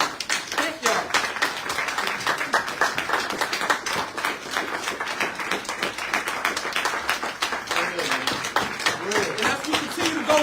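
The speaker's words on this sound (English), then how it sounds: "Can we clap it up for our elders?" An audience claps for the elders at a Black Men's Movement gathering, a sustained round of sharp, dense hand claps lasting about ten seconds, with voices talking over parts of it.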